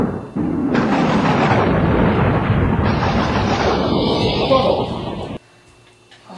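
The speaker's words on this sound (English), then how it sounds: "Man, that storm's really picking up." Loud thunder from a worsening storm rolls in suddenly and rumbles heavily for several seconds before cutting off, leaving a faint low hum.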